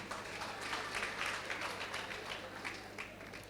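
An audience applauds at a comedy show, a fairly faint, steady patter of many hands clapping together through the whole clip, slightly swelling in the middle and then tapering.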